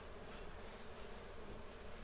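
A dense, continuous buzz of bees swarming around a hive during a summer inspection among new light-colored trays. The agitated bees hum steadily and close by with no talk.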